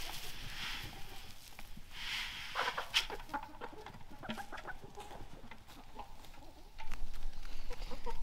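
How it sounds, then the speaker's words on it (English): Homestead chickens, a mix of egg layers and meat birds, cluck softly at a middle distance, with scattered calls and occasional brief louder squawks over a quiet outdoor background. "These are a mixture of egg layers and meat chickens."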